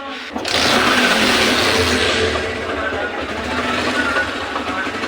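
A Bajaj Discover 135 motorcycle engine, just refitted, starts and runs loud and close with a dense, even mechanical whir and no break after the first moment.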